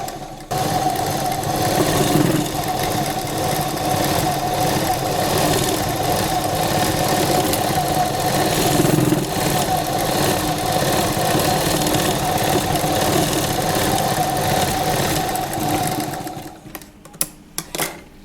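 A sewing machine runs steadily for about sixteen seconds, stitching a seam down the middle of lehenga fabric with a loud, even motor drone before stopping, followed by a few small clicks.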